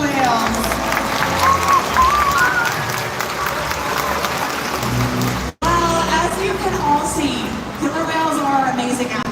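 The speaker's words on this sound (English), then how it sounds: "How about a round of applause for those" Stadium crowd at a SeaWorld Orlando orca show claps and cheers loudly and steadily for the killer whales, a dense wash of applause with music or announcer talk underneath and a brief cut partway through.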